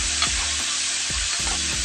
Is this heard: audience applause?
no